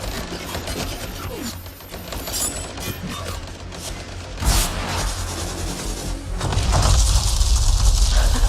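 Dense, continuous gunfire and explosive booms from the Anthem video game, with mechanical clanks mixed in, loud and sustained, swelling heavier toward the end.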